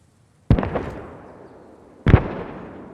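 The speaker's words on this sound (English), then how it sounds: "Artillery's coming in. Take cover" Artillery shells in the war game Post Scriptum land in two heavy, booming explosions about a second and a half apart, each with a sharp onset and a long rumbling decay.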